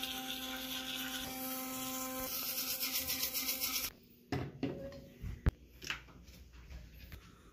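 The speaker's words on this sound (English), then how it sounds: "but I gotta brush my teeth." Electric toothbrush buzzing steadily at close range during a quick tooth-brushing before an early airport trip, its motor hum cutting out partway through, followed by scattered handling taps and knocks.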